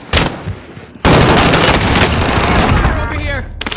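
Dense gunfire in the battle royale game Call of Duty: Warzone (Black Ops Season 3), loud sustained automatic bursts after a brief pause, with player voices talking over the shooting.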